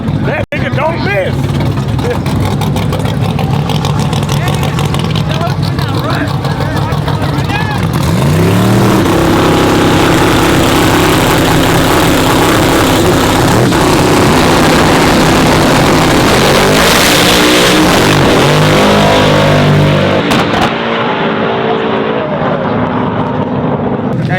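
Racing trucks at the Truck Nationals roar continuously and loudly, with engines revving and rising in pitch as they pass, while people talk over the din.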